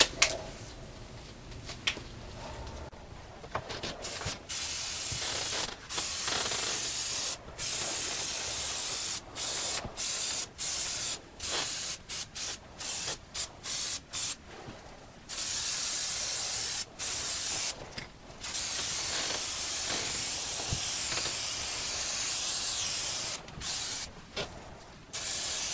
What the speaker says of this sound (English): I'm going to spray around the outside edge and get the first coat on that